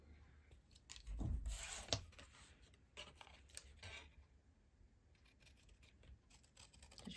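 Scissors cutting out a piece of card for a floral card, a few quiet close snips and crisp scraping cuts in short bursts, faint and intermittent with quiet pauses between.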